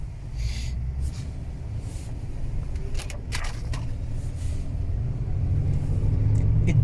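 A 1987 Chrysler Fifth Avenue driving and accelerating on back roads in Boxborough, heard from inside as a steady low engine rumble that swells gradually, with faint road noise and a few light clicks.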